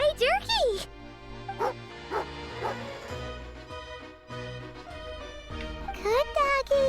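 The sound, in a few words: dog barking in a video game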